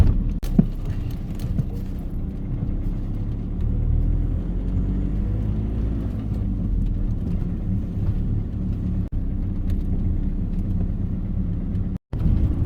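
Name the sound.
car driving to a parking lot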